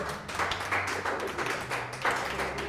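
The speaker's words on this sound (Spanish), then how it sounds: "dele fuerte ese aplauso al Señor" A church congregation claps for the Lord after a sermon passage, the clapping loud and close, a busy irregular patter with a low murmur underneath.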